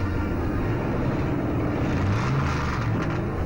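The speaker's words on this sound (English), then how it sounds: "The cars are moving to the starting line." Several 1957 stock cars, including a Pontiac, roll toward the starting line at Darlington for the Southern 500, a steady low engine rumble that stays loud and continuous throughout, with no talk over it.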